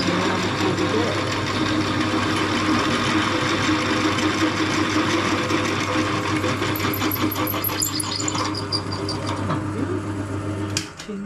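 A drill bores through a metal part after a pilot hole, giving a loud, steady, continuous whine with a constant low hum. It fades out near the end as the drill stops.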